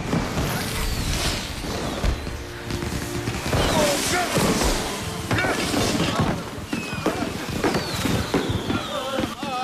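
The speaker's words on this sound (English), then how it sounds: "I will make more beautiful fireworks." Fireworks burst repeatedly in an action adventure film scene, loud crackling pops and booms with whistling streaks layered throughout, dense and continuous across the stretch.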